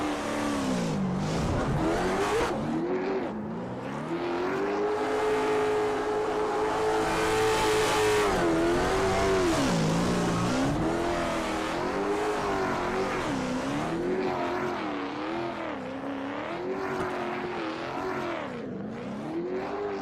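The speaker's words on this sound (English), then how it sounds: "The burnouts continue for car 48" Race car 48 in the DLine Racing League at New Hampshire doing burnouts and donuts, its engine roaring loud and continuous, revving and surging with wavering pitch, tires squealing throughout for twenty seconds.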